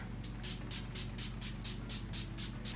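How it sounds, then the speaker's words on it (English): Urban Decay All Nighter setting spray is sprayed in about eight quick, close, airy hisses at a steady rhythm, each burst short and evenly spaced. "we're gonna finish everything up with the Urban Decay All Nighter Setting Spray"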